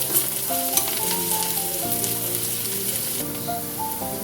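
Chopped onions frying in hot oil after dried red chillies, for a soybean dopiaza, with a steady broadband sizzle and stirring scrapes under light background music throughout.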